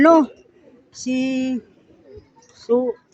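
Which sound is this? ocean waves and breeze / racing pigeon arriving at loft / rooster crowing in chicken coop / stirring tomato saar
racing pigeon arriving at loft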